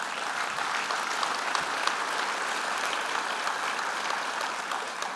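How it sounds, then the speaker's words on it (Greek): Sustained audience applause at a Greek Ministry of Climate Crisis and Civil Protection ceremony honouring volunteers, a dense, even roar of many hands clapping continuously throughout with no breaks. "σας αξίζει ένα πολύ θερμό χειροκρότημα"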